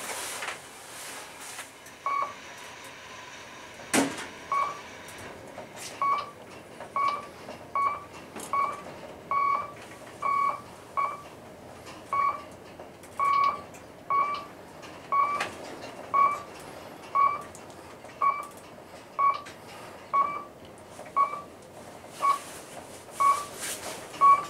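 An Otis traction elevator modernized by KONE beeps repeatedly, short evenly spaced electronic tones about once a second, clear over a quiet hum, with one louder clunk early on.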